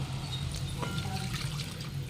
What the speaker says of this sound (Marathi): आता पाणी टाकून घेऊया त्याच्यामध्ये